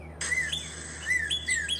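A few short, thin whistled chirps from a toy bird call at a beach, repeating at intervals over a quiet background.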